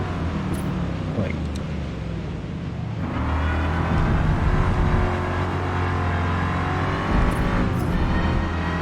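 A race car engine in Forza Motorsport drones steadily at high revs, building slightly after a few seconds and holding a sustained, even pitch with no one talking.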